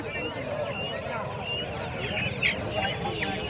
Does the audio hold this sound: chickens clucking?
yes